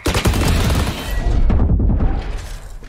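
Loud, dense Vandal rifle fire in a video game, a rapid stream of close shots, with a brief lull midway before the firing resumes.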